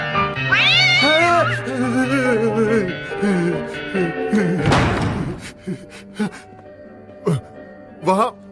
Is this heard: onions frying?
no